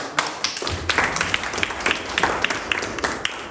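A room of people at a Rotary club meeting in Spain claps in a brief burst of applause, scattered hand claps rising and tapering over a few seconds.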